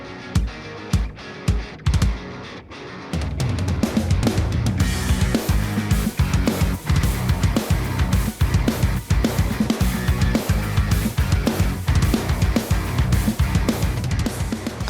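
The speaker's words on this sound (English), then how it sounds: "I can play you a clip of the mixed drum thing" Mixed drum kit recorded with cheap drum microphones and no samples, first a few sparse hits and fills, then a full driving groove with punchy kick, snare and constant cymbals, loud and close with no talking.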